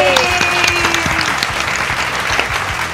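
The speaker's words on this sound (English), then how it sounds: "Can we give our contestants a huge round of applause?" Audience applause for contestants at a Temasek Polytechnic impromptu speaking competition in 2020, loud, close clapping that stays steady throughout, with a brief whoop and cheer near the start.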